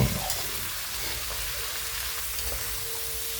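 Ground meat and yellow squash cook in a pan with a steady, fairly soft sizzle and a few light pops, heard alone.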